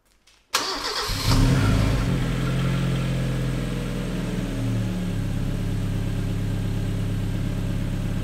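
A car engine cranks and catches at once, then revs and settles into a loud, steady idle rumble close by, with no talking over it.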